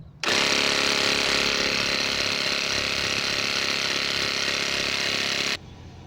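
An air compressor for inflating a car tire switches on abruptly and runs with a loud, steady mechanical drone for about five seconds, then cuts off sharply, with no talking over it.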